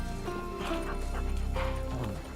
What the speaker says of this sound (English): Horses plowing the garden.